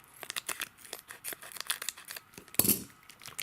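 Scissors snip and crinkle at a foil Pokémon Jungle booster pack, close and crisp, with a rapid series of short cuts and rustles and one sharper rip near the end.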